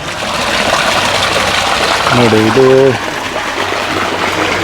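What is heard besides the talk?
overflow water streaming out of a temple tank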